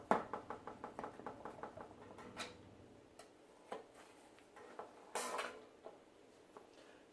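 A butter knife runs around the inside of a floured bread pan, making a quick series of light metallic ticks and scrapes that slow into scattered clicks and a couple of louder scuffs.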